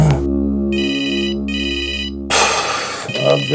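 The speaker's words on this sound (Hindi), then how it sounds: "अब यार इस समय किसका फोन आ गया?" A telephone rings with a bright electronic tone in two short bursts, loud and close over a low steady hum, then gives way to a burst of noise.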